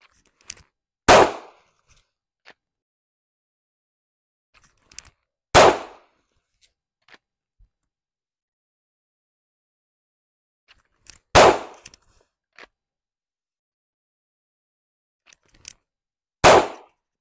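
Four sharp pistol shots ring out several seconds apart, loud and close, each with a brief echo and faint clicks between them.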